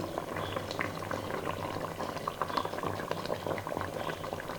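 A pot of coconut milk fish curry bubbles and simmers steadily, soft popping bubbles bursting continuously at close range with no talking.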